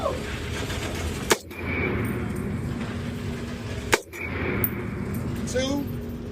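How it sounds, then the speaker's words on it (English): Two sharp, loud rifle shots from an HK MR762A1 AR-style rifle at a gun range, spaced a few seconds apart, each a crisp crack over steady background noise. "I'm shooting the AR HK MR 762A1."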